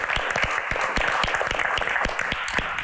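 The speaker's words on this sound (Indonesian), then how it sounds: "Tepuk tangan untuk ayah dari Mbak Anggun." An audience at a Q&A event claps for Anggun's father, a steady round of many hands clapping from a crowd, with no voices standing out.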